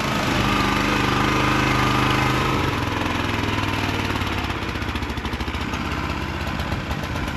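A small engine runs loud and close in snow, its steady drone turning uneven and sputtering partway through as it dies, with no voices.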